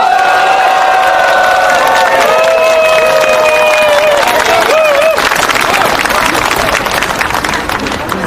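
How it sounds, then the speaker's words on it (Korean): Crowd at an outdoor Korean political campaign rally applauding and cheering loudly, with a steady wash of clapping and shouts filling the whole stretch, while a loud voice or amplified tones sound over it early on. "다시 한번 큰 박수 부탁드리겠습니다"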